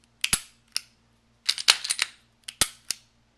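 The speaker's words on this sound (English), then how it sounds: "Pull the slide all the way to the rear," A Taurus PT740 Slim pistol slide being handled, pulled back and released to snap forward: a series of sharp, close metallic clacks and clicks in irregular clusters, with no speech.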